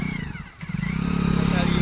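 Motorcycle riding near a beach, the engine chugging steadily close by, dipping briefly then building into a stronger, rhythmic throb.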